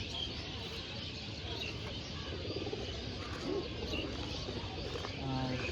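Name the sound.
pigeons cooing in a pigeon loft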